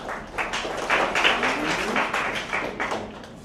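A Colorado Springs science slam audience claps lightly in a test of quiet applause, a modest patter of hands with soft uneven bursts and no talking.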